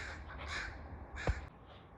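Crows cawing as they mob a larger raven to drive it off, a few harsh calls spread across two seconds, fairly close, with one sharper louder caw near the end, no talking.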